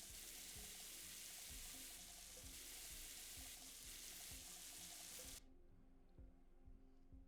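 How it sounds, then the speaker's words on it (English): Water pours steadily into a coffee maker in the video game MiSide, a loud continuous splashing stream that stops abruptly near the end, leaving a quiet hum. "Put some water in the coffee."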